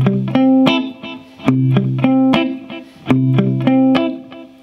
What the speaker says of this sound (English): strum on the high strings there, nice and short, letting that reverb give it a little bit of an echo feel